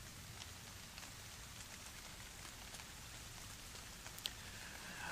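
Steady rain patters all around, with scattered droplets ticking on nearby surfaces, continuous and soft, no voices.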